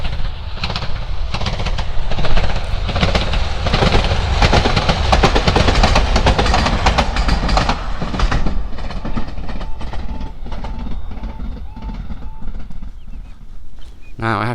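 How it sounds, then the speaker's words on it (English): A train thunders past close by on a line near Norwich, Norfolk, its wheels clattering rhythmically over the rails in a continuous loud rush that eases slightly near the end. "and the train is now coming."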